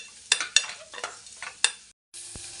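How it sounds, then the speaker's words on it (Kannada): Beetroot with salt frying in a pan as a spoon stirs it, making several sharp scraping strokes over a steady sizzle before a brief pause and a return of the frying hiss. "ಆಮೇಲೆ ಇದಕ್ಕೆ ಉಪ್ಪು ಎಷ್ಟು ಬೇಕೋ ಅಷ್ಟು ಹಾಕ್ಕೊತಾ ಇದ್ದೀನಿ. ಇದೊಂದು ಸ್ವಲ್ಪ ಫ್ರೈ ಆಗಬೇಕು."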